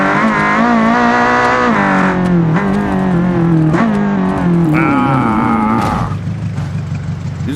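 A 1600-horsepower Hennessey Venom F5 supercar engine drives hard in the Automation car-building game, with a loud, close, sustained revving tone whose pitch climbs and then drops at each gear change before it settles lower.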